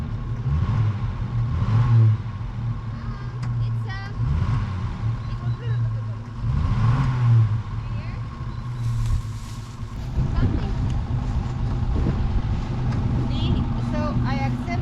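Classic Rover P4 car under restoration driving, its engine note rising and falling in repeated surges as it accelerates, with someone talking over the engine throughout.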